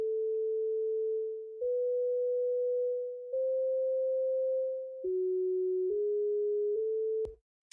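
A synthesized sine-wave lead melody plays in LMMS as a pure, clean tone stepping through about six sustained notes with brief gaps between them, quiet and alone.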